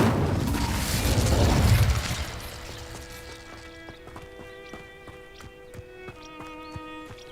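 Incendio fire spell cast in Hogwarts Legacy on Xbox Series: a loud, broad whooshing burst of flame for about two seconds, then fading into quieter game sounds with tonal chimes and scattered clicks.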